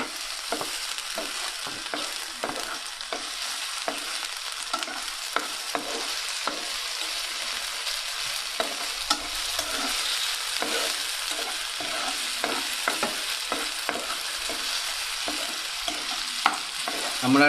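Peas deep frying in hot oil, a continuous bubbling sizzle with frequent light stirring clicks, close and moderately quiet, no voices.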